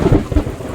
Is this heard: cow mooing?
no